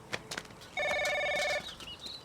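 In a Hong Kong TV drama, a telephone gives one short, clear ring burst amid light background movement.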